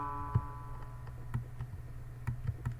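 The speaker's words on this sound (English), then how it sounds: "Can we just ignore the clock?" Clock ticking in the RPG The forest of drizzling rain, soft irregular ticks and knocks over a low steady hum and faint tones, close but quiet, no voices.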